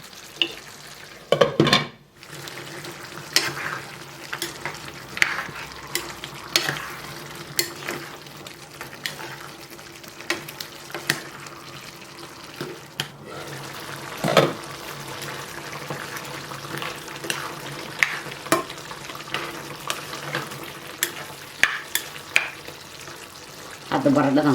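Tomatoes and chili fry in a pan for a macaroni sauce, giving a continuous close sizzle broken by repeated scraping stirs and a few clanks of utensil on metal.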